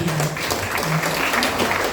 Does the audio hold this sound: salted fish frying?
no